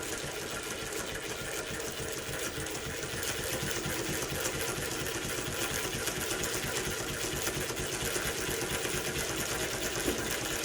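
A Mannan 3-thread chain stitch embroidery machine runs steadily while stitching a pillow, with a dense, continuous rapid mechanical whir and clatter, close and unbroken throughout with no talking.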